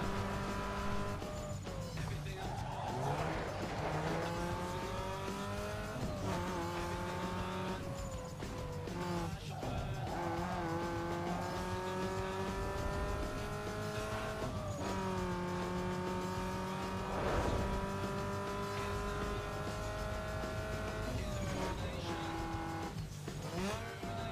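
Racing car engines in Need for Speed Underground 2 rev and shift up again and again with rising and falling pitch. Tire squeal and whooshing passes mix in over roughly twenty-four seconds of continuous, loud driving.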